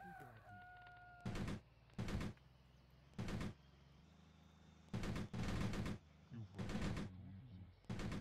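Short, loud volleys of UNITA gunfire in a video game set during the Battle of Cuito Cuanavale in the South African Border War, with several separate bursts over a quieter battlefield background.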